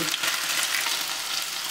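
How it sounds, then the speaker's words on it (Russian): Meat sizzles loudly in a hot pan, a dense steady hiss with fat crackling and spattering throughout. "На большом огне жир стреляет."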